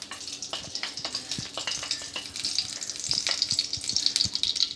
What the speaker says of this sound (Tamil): இப்போ வறுத்து வச்சுருக்கிறது எல்லாத்தையும் இப்போ அதே பேன்லேயே கொஞ்சோண்டு நெய் விட்டுக்கிறேன்.